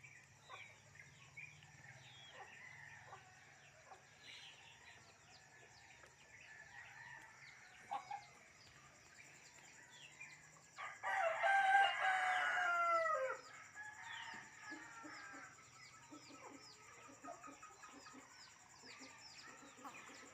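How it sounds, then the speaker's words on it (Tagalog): Chickens cluck softly in the background, then a rooster crows loudly once midway before the quiet clucking resumes. "Abo, alagang manok."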